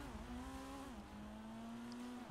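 Car drifts through a busy city street in GTA 5, a steady engine drone holding one pitch with a brief dip, faint and continuous with no talk over it.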